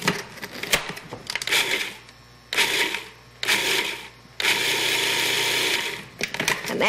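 A food processor pulses butter into cookie crumbs for a lemon tart crust, several short loud whirring bursts of varying length with gaps between, close and harsh, no talking over it.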